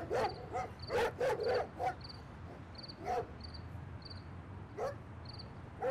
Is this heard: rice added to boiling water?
no